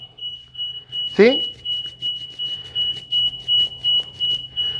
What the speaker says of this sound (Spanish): vamos a apagar acá la alarma, porque si no, no me oyen